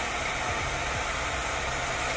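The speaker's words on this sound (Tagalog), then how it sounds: "kailangan natin yung blower pwede na yung blower kahit sa buhok" A handheld hair dryer blows hot air onto a broken car bumper during repair, a steady, loud, broadband whoosh with a constant motor hum and no pauses or voices.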